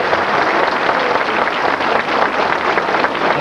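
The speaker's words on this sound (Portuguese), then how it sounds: "Mais um grande salve de palmas para a dança de Tíbari" Loud, dense crowd applause for a sword dance at a 1995 carnival in Peabody, Massachusetts, continuous and steady throughout with no talking.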